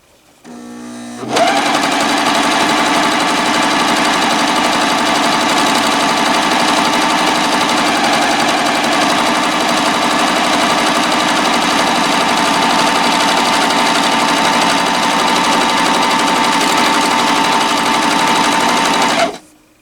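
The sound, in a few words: Janome 900 CVX overlock sewing machine running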